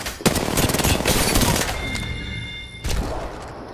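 Rapid gunfire crackles in a battle royale match of Apex Legends, several close bursts of shots followed by a pause and another loud volley.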